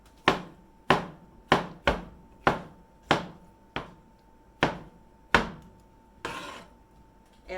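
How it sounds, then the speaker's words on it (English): A cleaver chops through large mushrooms and fungus on a board, ten sharp, evenly spaced thwacks a bit under a second apart, each ringing briefly, close and clear with no talk. "I think I'm gonna chop up the mushrooms and fungus as well, because they're pretty large"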